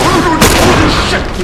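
An enemy gunshot striking the player in The Last of Us Remastered, a loud broadband burst in the middle of busy game noise, set among a faint tonal musical bed.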